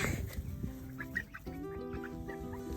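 Silkie chickens on a homestead cluck close by in a series of short, tonal calls. A rooster is among the small flock, and the clucks come in quick overlapping bursts with no speech.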